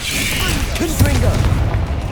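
Fiery Confringo spell blast from Hogwarts Legacy combat, a booming burst with crackling rumble lasting about two seconds, loud and close, with game voice sounds mixed in.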